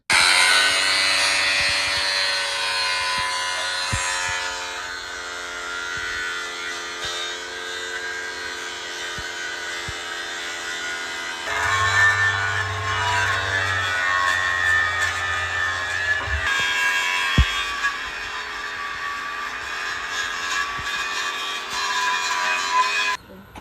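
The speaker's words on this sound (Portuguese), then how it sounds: "Agora, pegar a lixadeira e fazer a limpeza da peça." A loud, steady high-pitched whine of an angle grinder sanding a metal part on a planter, cleaning it before welding, runs throughout, with a deeper rumbling tone joining midway.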